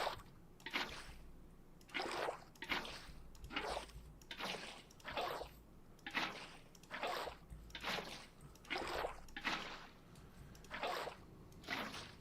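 Water flowing in the VintageCraft video game, a rhythmic series of splashing, trickling bursts repeating roughly every second over several seconds, soft and close with no talk.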